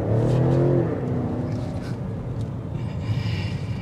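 A 2024 BMW X6 M60i SUV accelerating on a test drive, its engine roaring loud and close at first, then settling into a steady, sustained drone with road rumble underneath.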